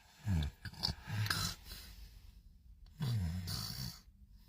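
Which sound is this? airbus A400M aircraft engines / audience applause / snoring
snoring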